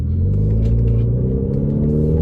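Renault Clio RS with around 220 horsepower pulling hard under turbo boost, a loud, close, rising engine rumble with deep throaty drone heard from inside the car, no one talking.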